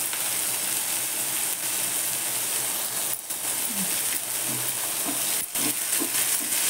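Green chillies with salt being stir-fried in a pan, giving a dense, continuous close sizzle with occasional scraping stirs throughout.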